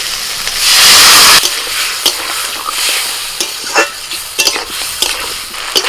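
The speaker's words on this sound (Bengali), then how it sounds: "এবার অল্প করে একটু জল দিচ্ছি" Water poured into a pan of frying spices, turmeric, Kashmiri chilli powder, salt and chopped tomato, bursts into a loud hiss, then fades into a gentle sizzle with scattered spoon clinks and scrapes against the pan.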